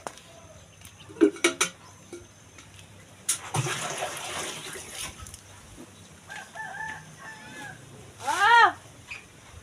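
A rooster lets out a loud, close crow near the end, preceded by scattered clucks and chicken calls, with a burst of rushing noise and a few sharp knocks earlier in the scene.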